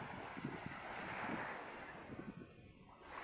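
Sea waves wash onto the beach at Santa Mio with heavy wind buffeting the microphone, a close, rushing surf that surges and recedes.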